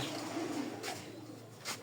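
Soft, low cooing of a young racing pigeon in the background, faint and somewhat distant, with a couple of brief rustling noises.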